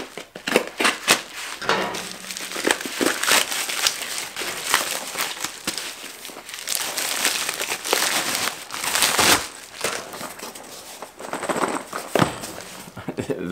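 Rattles inside vintage Bomber crankbait fishing lures clatter in rapid bursts as the lures are shaken by hand, close and fairly loud, with crinkling handling noise and a voice talking now and then.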